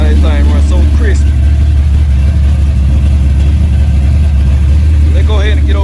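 A Chevy box car's engine rumbles loud and steady from inside while driving, a deep constant drone with someone talking over it at the start and end.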